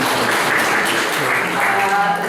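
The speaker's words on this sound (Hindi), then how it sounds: "एक बार तालियों से उनका स्वागत" An audience at an international conference applauds to welcome a speaker to the stage, a dense, steady wash of many hands clapping that stays loud and even throughout.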